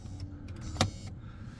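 A car's electric power seat motor runs in a short, faint whir with a brief louder click midway, heard alone inside the vehicle.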